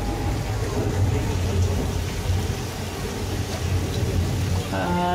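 Simulated rainstorm on a studio tour set: steady rain pours with a deep, low rumble of thunder rolling underneath, continuous and fairly loud, with no one speaking.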